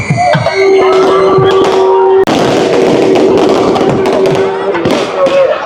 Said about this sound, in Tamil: வான வேடிக்கைகள் இப்பொழுது இடம்பெற்று கொண்டிருக்கிறது